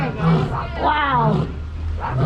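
Lions at Kilimanjaro Safaris let out loud, close, rumbling roars and grunts over a low idling vehicle engine.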